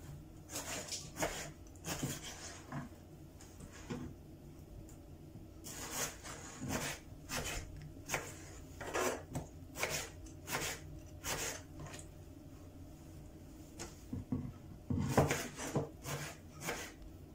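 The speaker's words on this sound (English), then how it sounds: "tomatoes are cut in half, and then just do like that into strips again. And then plop them into the tray" Knife slicing halved tomatoes into strips on a board, then the pieces plopped into a tray; a series of irregular soft cuts and thuds close by, with quiet pauses between and no talk.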